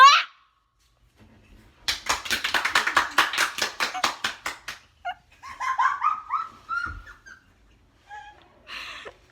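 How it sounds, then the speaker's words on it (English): A rapid run of sharp hand claps from several people, loud and close, bursting out for a few seconds and then giving way to scattered taps, rustles and brief noises with quiet gaps. "Clap, everybody, clap!"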